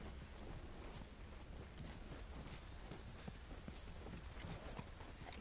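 Horse hooves clip-clop in The Last of Us game, a steady run of soft hoof falls under dense, noisy background wind and rumble throughout.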